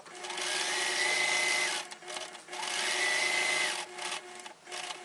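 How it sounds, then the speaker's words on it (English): A sewing machine hums through a quilt seam on large pieced diamonds for a tree skirt, in two sustained bursts of steady stitching with a short pause between, loud and close, with no talk. "I'm going to go ahead and sew my last seam."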